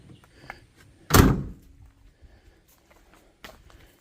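A swing-away HollyWood bike rack being swung open, a single solid metallic thunk up close, followed by faint light clicks and handling noises in a quiet setting.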